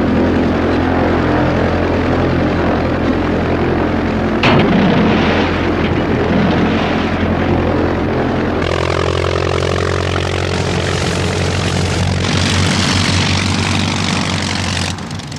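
A loud airplane engine roars continuously as the aircraft burns, with a sharp bang partway through and the engine note shifting higher toward the end.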